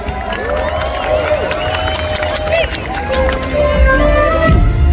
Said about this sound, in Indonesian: Tepuk tangan buat Sega.